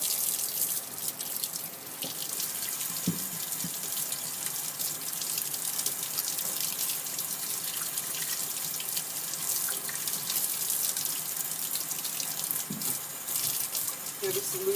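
Tap water runs steadily into a lab sink while Gram stain slides are rinsed, a continuous hissing flow with a couple of faint clinks.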